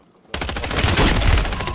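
Rapid gunfire in a shooter video game, a sustained burst of loud repeated shots starting abruptly after a brief quiet moment.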